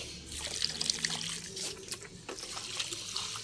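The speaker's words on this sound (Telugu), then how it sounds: "ఇలా ఫోర్స్గా మనం ట్యాప్ తిప్పుకోవాలి" Water gushes from a garden tap opened with force while plants are watered, a steady splashing flow with trickling spatters, fairly close and unaccompanied by speech.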